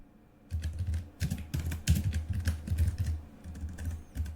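Fingers type on a computer keyboard in a quiet room, a close run of clicky keystrokes in short bursts with brief pauses and no talk.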